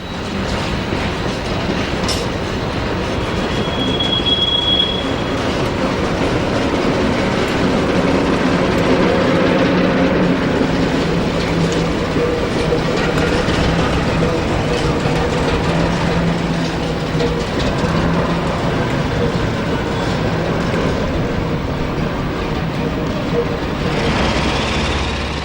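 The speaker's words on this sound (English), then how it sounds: "The wagons are tripped into the docks by D3761" Diesel shunter D3761, once numbered 08594, trips a rake of wagons into the docks: a steady, continuous rumble of engine and rolling stock with faint clanks and squeals, and no voices.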